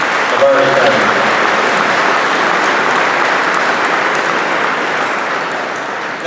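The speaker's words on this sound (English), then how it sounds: "give yourselves a round of applause" A business gala audience gives a round of applause, dense sustained clapping from a large crowd filling the room, steady and loud before easing slightly at the end.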